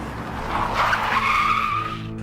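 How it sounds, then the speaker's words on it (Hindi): Jeep brakes skidding in an animated horror story, a loud tire squeal rising from a broad rush and holding steady for about two seconds before cutting off. "दोनों ही अपनी गाड़ी का ब्रेक लगाते हैं।"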